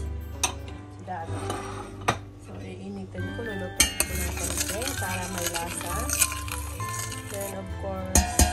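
Lemongrass stirred into crayfish cooking in coconut milk, with clinking utensil taps and scraping against a pot, mixed with intermittent talking and background sounds.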